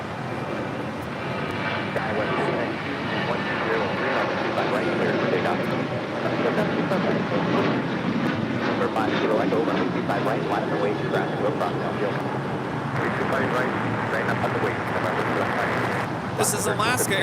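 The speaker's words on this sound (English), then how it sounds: "This is Alaska Airlines 1332 taking off to Loretto on a 737-800." An Alaska Airlines Boeing 737-800 takes off from LAX, a broad sustained jet roar that swells and holds, heard from a distance with people talking over it.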